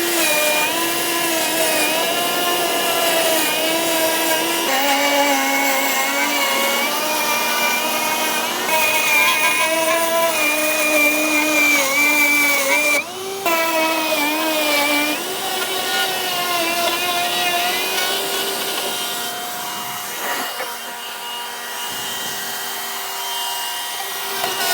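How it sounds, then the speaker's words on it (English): A router cuts window openings through a house wall, a loud, sustained whining with steady harmonic tones that shift slightly in pitch as the bit travels around, briefly dipping before continuing. "So this will be the starting point, and we'll just router right around."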